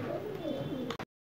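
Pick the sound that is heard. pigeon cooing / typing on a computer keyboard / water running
pigeon cooing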